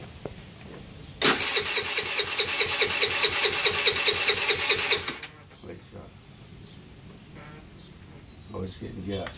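A cheap scooter engine is cranked in a starting attempt, giving about four seconds of loud rhythmic whirring that then stops, followed by quieter handling noises and brief talk.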